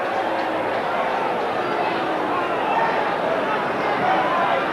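Football crowd at a 1987 Essendon versus West Coast match booing and jeering in disapproval, a dense, steady roar across the whole stretch with no clear breaks, loud and somewhat distant, with a commentator talking over it.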